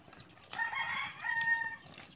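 A bird call rings out from a moderate distance near Taal Volcano, a sustained crowing-like cry lasting over a second, with no voices.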